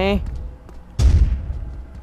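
A grenade explodes in the block-built shooter game Blockstorm: a sudden loud blast that rumbles and decays over about a second, after a brief voice-like tone.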